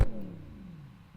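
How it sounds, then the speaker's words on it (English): Mercedes SLS AMG exhaust with a sharp opening blip, then a revving engine note that falls away in pitch, close and fairly loud with no talk. "here is where I show you guys the exhaust"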